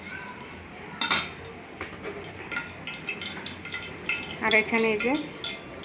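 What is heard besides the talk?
handling boiled meat in a cooking pot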